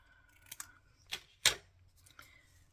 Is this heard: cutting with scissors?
yes